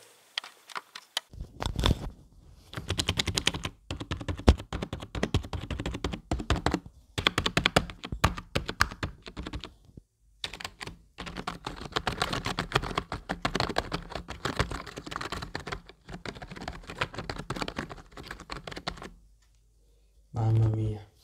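Typing on a cheap 80% computer keyboard, an inexpensive model costing about 8 euros: rapid bursts of close, clacky keystrokes with short pauses between runs, recorded in a quiet room.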